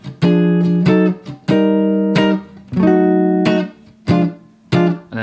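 A guitar plays a blues run, a series of plucked notes and short chordal stabs with clear gaps between phrases, close and alone.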